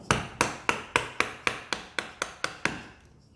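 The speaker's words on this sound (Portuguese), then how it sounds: "Tô entrando com o formão com o fio para baixo" A wood chisel held bevel-down is driven into wood to sever the fibres while making a marking gauge, giving about eleven sharp, evenly spaced strikes up close, each ringing briefly before the next, with no talking.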